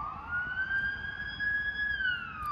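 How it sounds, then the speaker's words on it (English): Ambulance siren wailing outside in a steady, sustained rising and falling tone, moderately loud and continuous with no talk over it. "Ambulance."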